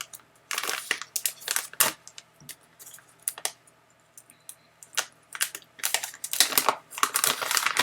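A subscription package is torn open and its wrapping crinkled, with bursts of crisp rustling and crackling scattered between quiet pauses, close and fairly loud, no voices.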